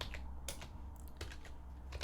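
Several quick, close keystrokes clatter on a computer keyboard in short irregular bursts over a quiet background.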